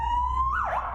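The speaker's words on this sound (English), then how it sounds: "The officer was on his way to test the sirens on his motorbike, which he did at intervals throughout much of the remainder of the interview." A police motorbike siren being tested makes a steady tone that then rises and swoops in a quick wail, loud and close throughout the short burst.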